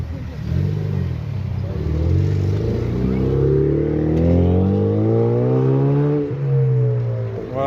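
A Camaro RS with a cold engine revs and pulls away, its deep engine note climbing in rising sweeps as it accelerates, loud and close, with a voice briefly audible over it.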